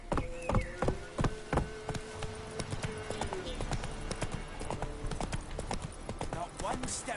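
Hooves of Roach, Geralt's horse in The Witcher 3, clip-clop in a steady rapid rhythm, loud and close, mixed with game ambience, music tones and voices talking.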